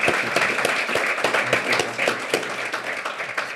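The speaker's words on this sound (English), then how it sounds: "let's give him a round of applause again." An audience at an event gives a round of applause, many hands clapping densely and loudly for several seconds, close and continuous.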